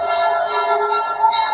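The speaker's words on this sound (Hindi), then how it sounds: "उसे कहीं दूर से घंटियां बजने की आवाज आने लगी।" Bells ringing in the distance for a horror story: sustained, shimmering metallic tones that ring on steadily and fairly loud, alone with no voices.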